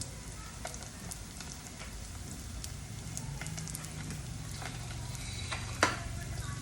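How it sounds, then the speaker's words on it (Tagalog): Close, continuous sizzling of lumpia frying in hot oil, with scattered crackles and one sharp pop near the end. "Pag nagpiprito tayo, kahit na ano ipiprito natin, isda, karne o mga ganitong lumpia"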